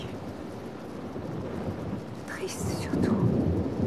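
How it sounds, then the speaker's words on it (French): Rain patters steadily on a car's soft convertible top while thunder rumbles and swells in the background. A person speaks briefly over the storm. "Vous entendez le bruit que fait la pluie sur la capote?"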